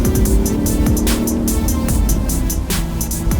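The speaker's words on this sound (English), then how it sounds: "I'm now going to basically flatten my foot on the accelerator and drop at the appropriate moment." A car launches hard from a standstill under launch control for a 0-60 run, its engine roaring loudly and rising in pitch through continuous, close acceleration.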